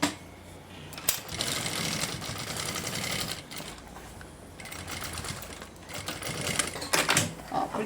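A sewing machine stitches a bag strap in rapid, rattling runs that pause briefly between bursts, close and steady throughout.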